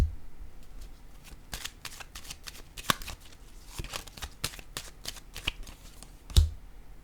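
Tarot cards are shuffled, flicked and laid down one by one on a table, a run of crisp close papery snaps and slaps with a sharper tap near the end, quiet otherwise.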